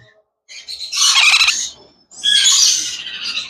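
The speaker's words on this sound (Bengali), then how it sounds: "রংধনু পাখির বাচ্চা, রেইনবো লরি পাখির বাচ্চা" Rainbow lorikeet chicks give two loud, harsh squawking bursts close by, each lasting about a second, separated by a short pause.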